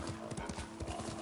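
Quick rhythmic hoofbeats of a galloping horse in Ghost of Tsushima, close and continuous over a brief stretch of game ambience.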